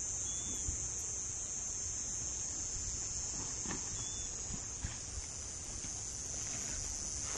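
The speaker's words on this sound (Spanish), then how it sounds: "Cigarras." Steady high-pitched insect buzzing drones throughout, continuous and fairly loud, over a quiet low rumble with a few faint knocks.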